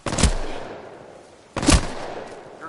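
Two sharp, punchy gunshots from a weapon in Titanfall 2 ring out about a second and a half apart, each loud and close with a short decaying tail, with no talk over them.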